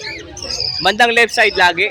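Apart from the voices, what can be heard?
cockatiel at pet market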